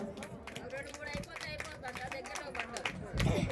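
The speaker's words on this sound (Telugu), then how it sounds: "అందరూ ఒకసారి గట్టిగా చప్పట్లు కొడదాం." An audience claps in a fast, uneven patter of many hands, rising louder toward the end, with a voice talking over it.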